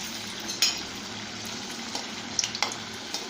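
Hot oil sizzles steadily in a kadai for methi aloo kachori, a continuous close hiss broken by a few sharp crackles and pops.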